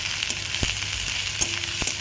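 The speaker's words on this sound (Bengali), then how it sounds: "আমি সর্ষের তেল দিলাম কড়াইতে, দিয়ে তার মধ্যে পেঁয়াজ কুচি লঙ্কা কুচি দিয়ে একটু ভালো করে ভাজা করে নেবো।" Chopped onion and green chili sizzle steadily in hot mustard oil in a wok, a close, even frying hiss with a few soft stirring taps and no talking.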